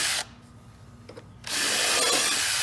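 A power drill bores through wood while a wooden raised bed is assembled, a brief pause of low hum giving way to a loud, steady whirring grind as the bit bites back in.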